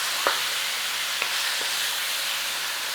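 Mince seasoned with salt and pepper browning with onions in a pan, giving a steady broadband sizzle with a few faint clicks of stirring, no voices.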